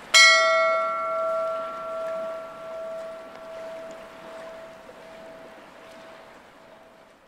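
One clear strike of a bell rings out loud and close, then its bright, sustained tone decays slowly over several seconds with no talking.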